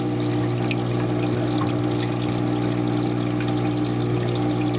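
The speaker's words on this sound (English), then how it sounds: "that is the protein skimmer right there. It'll suck up water, and then see what happens." Aquarium protein skimmer drawing water in a reef tank setup, a loud steady pump hum with continuous bubbling and trickling water close by, no voices.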